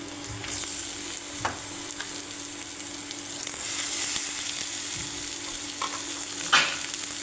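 Onions and tomatoes fry in oil in a pan for tomato rice, with a steady soft sizzle and occasional scraping stirs close by.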